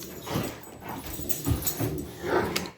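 Dogs in a rough, playful scuffle at home, with short yips, whimpers and growly barks coming in bursts at close range over a couple of seconds.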